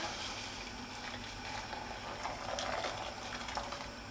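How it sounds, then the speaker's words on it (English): Boiling water is poured from a kettle over almonds in a kitchen to blanch them, giving a steady, close, hissing splash of liquid that holds evenly throughout without talk. "Cover them with boiling water"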